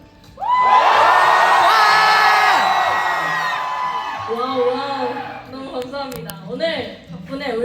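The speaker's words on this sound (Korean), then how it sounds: "여기 안 오신 스윗들이 배 아플 정도로 함성 질러볼까요?" A K-pop fan meeting crowd lets out a loud, sustained cheer of screams and shouts that peaks early and then fades, followed by scattered yells and chatter.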